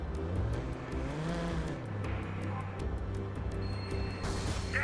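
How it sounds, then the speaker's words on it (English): Car engine droning steadily in the video game Watch Dogs, with a low rising and falling pitch as the car drives on, plus faint tire and impact noises near the end. "I just drove through that car"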